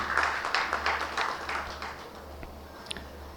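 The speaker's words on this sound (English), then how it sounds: "Could we have a round of applause, ladies and gentlemen?" An audience at a South Asian regional electricity conference claps after a speaker is introduced. Scattered, fairly faint applause is heard at a distance and dies away within a few seconds.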